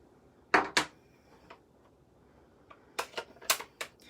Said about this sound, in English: I'm just going to stamp about 3 rows